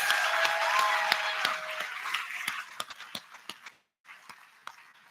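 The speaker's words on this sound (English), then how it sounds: "I really do want another round of applause for our board of directors" A crowd at a season announcement party applauding the board of directors, a loud wash of clapping that fades into a few scattered, distinct claps near the end.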